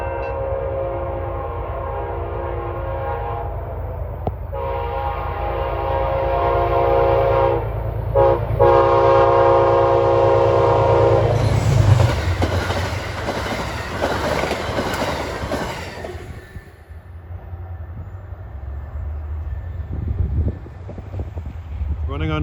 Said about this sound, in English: we have a fast-moving westbound Amtrak, train 281, en route from New York to Niagara Falls, New York